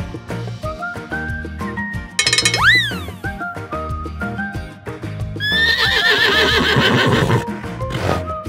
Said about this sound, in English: Horses are here as well.